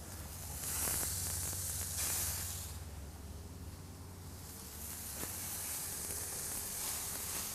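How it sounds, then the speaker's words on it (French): Chicken kebabs on pre-soaked skewers sizzle on a barbecue grill at medium heat, around 300 to 350 degrees, giving a faint, steady hissing crackle that swells and eases slightly, with no talking. "Alors, pour la cuisson, on a placé les brochettes."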